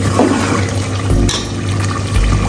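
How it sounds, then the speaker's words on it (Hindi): Water is poured into a pot of chickpeas cooking in ghee, a steady loud splashing and gurgling stream that runs unbroken for a couple of seconds, close up. "ये देखिए यहाँ पे पानी ऐड कर रही हूँ"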